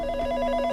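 A telephone in a Hindi family drama setting rings steadily and close by for a short moment, with a continuous electronic ringing tone and no talk over it.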